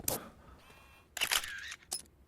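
A camera shutter clicks in the Dead Rising video game as a bonus photo is taken, with three crisp snaps spread over a couple of seconds and a faint hum between them.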